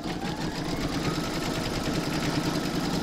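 An embroidery machine stitches round three of an in-the-hoop vintage witch's boot, a steady loud rapid mechanical whirr with dense stitching chatter running unbroken throughout, no voices.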